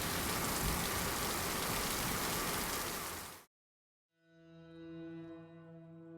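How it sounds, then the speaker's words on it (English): Steady, dense rain hisses loudly for several seconds, then cuts off abruptly and gives way to a low, droning hum. "the rain's upon us"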